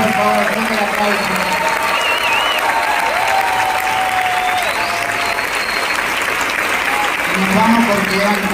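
A crowd at a women's assembly event applauds after a tango performance, loud continuous clapping mixed with cheering voices and some tonal sounds running through it.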